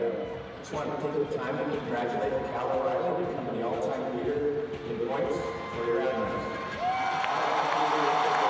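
Hockey arena crowd cheering after Cal O'Reilly's record-setting goal for the Admirals: a sustained, roaring wall of cheers and applause from a large crowd, with an announcer's voice mixed in.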